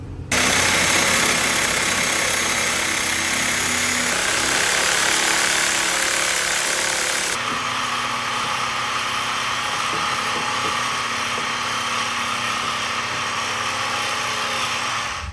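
A saw fitted with a Diablo blade cutting through a car suspension bushing gives a loud, continuous grinding drone that runs the whole time and shifts in tone about halfway through, with no talking.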